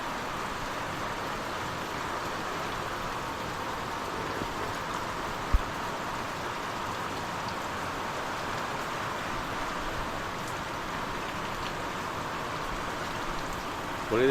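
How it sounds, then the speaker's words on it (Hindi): Steady rain falls continuously near a cottage and a parked car, making an even, dense hiss of drops that holds at the same level throughout, with a single brief knock partway through. "हो रही है बारिश, कल रात से हो रही है."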